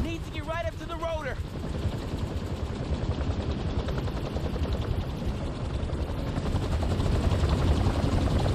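A helicopter rotor in the Spider-Man 2 video game throbs loudly and steadily throughout, with a short burst of bright synthetic game effects near the start and a person talking over it.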